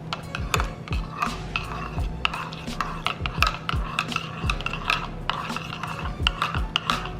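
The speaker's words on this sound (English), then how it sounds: "I'm just gonna stir that." A spoon scrapes and clinks rhythmically around a pot of spiked hot chocolate, steady close stirring strokes repeating throughout with a faint hum underneath.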